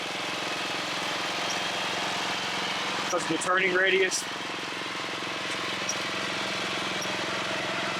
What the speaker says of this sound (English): That tractor also has a 12 horsepower industrial commercial Briggs engine.